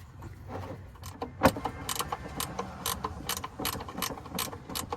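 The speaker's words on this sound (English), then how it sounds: "And the ratchet doesn't fit in there well, so I happened to buy this gear wrench." A ratcheting gear wrench works a car's oil drain plug, a run of quick, close metallic clicks in bursts over a few seconds, with one sharper knock early on.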